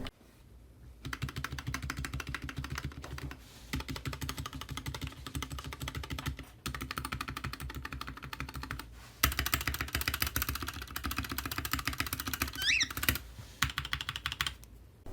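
Continuous fast typing on a Dierya DK63 60% Bluetooth mechanical keyboard, dense close clacking keystrokes in bursts separated by brief pauses, with occasional heavier thocks from larger keys.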